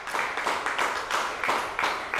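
Audience applauding a correct quiz answer at an outdoor quiz show, a short burst of moderate clapping in uneven pulses.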